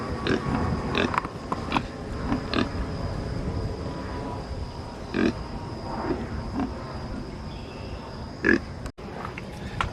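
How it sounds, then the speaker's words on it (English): Three feeder pigs in a pen on a small homestead grunt and oink intermittently at close to moderate distance over steady background noise, with a few louder snorts scattered through. "So as you can tell, we have 3 pigs."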